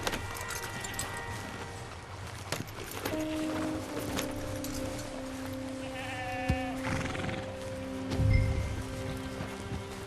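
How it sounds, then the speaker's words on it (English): In a Red Dead Redemption 2 scene, horses bleat-like whinny and snort amid soft hoof clopping and rustling, with a low rumble near the end, steady ambience throughout and no speech. "we get to choose one of these two horses here"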